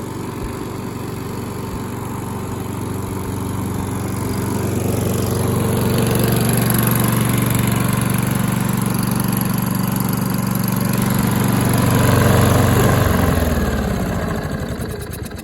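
A Husqvarna HU700F/HU675AWD lawn mower, cold-started after more than two months of sitting, runs with a steady, loud engine drone that swells slightly midway and then shifts in pitch near the end; no talking.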